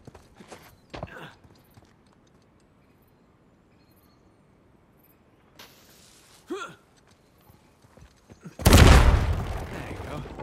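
Scattered faint clicks and thuds, then a loud, broad explosive blast blowing a door open in the video game Uncharted 4: A Thief's End bursts out near the end and rumbles on for a couple of seconds.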